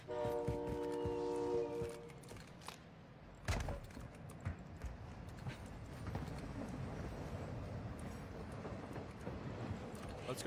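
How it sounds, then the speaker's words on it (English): A train rolls past in the video game Warzone, opening with a brief horn blast, then a rumbling, clattering rhythm of wheels that carries on at moderate distance with scattered sharp knocks. "Train coming."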